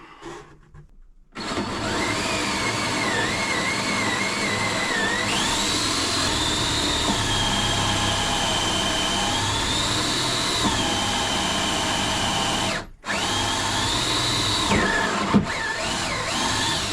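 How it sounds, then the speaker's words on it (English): A power drill with a conventional drill bit whines steadily at close range while drilling for a boat chain plate, its pitch wavering slightly as it bites, with a brief pause before it starts again. "I'm better to change to a conventional drill bit."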